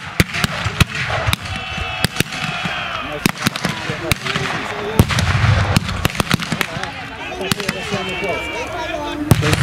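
Cannon and rifle fire crack across a battle reenactment of the 1920 defence of Płock, with irregular loud bangs and booms, some in quick clusters, over a constant background rumble.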